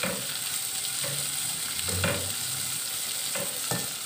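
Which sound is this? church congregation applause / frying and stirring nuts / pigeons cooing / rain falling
frying and stirring nuts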